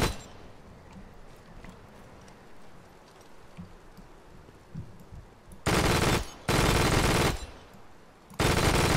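An MG42 machine gun in ARMA 3 fires three long, loud, dense bursts near the end, separated by short pauses, after a stretch of quiet rain-like crackle and scattered distant pops.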